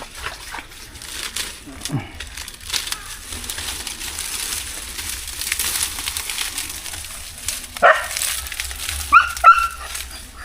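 A dog gives a few scattered, fairly close yips and whimpering barks at irregular moments amid rustling and crunching outdoors, while people talk nearby.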